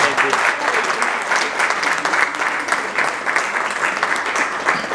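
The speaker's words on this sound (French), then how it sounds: "on va applaudir encore une fois de plus" A crowd at an engagement party claps steadily, dense and loud, the applause sustained throughout with some voices mixed in underneath.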